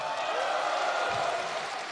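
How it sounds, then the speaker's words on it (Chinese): An audience claps at a Deyunshe crosstalk comedy show, a dense, continuous patter of applause at moderate volume filling the whole moment, with faint voices mixed in. "小学生没有必要鼓掌"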